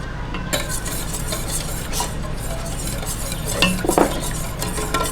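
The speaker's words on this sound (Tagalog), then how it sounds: "haluin lang po natin hanggang sa mawala na yung buo-buo na cornstarch" A cornstarch mixture with coconut cream for maja corn jelly being stirred in a pot, a close scraping and swishing with light metallic clinks of the utensil, continuous under a quiet kitchen background.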